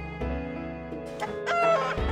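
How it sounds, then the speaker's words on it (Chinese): Chicken clucking and a rooster crowing in a horror exploration game set around a candy house, the fowl calls loud and close, repeating over a steady droning game soundtrack. "小鸡"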